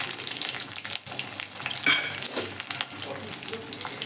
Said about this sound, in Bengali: গোটা রসুন, থেতো করা রসুন আর কালো জিরেটাকে প্রথমে আমি ভালো করে একটু ভেজে নেব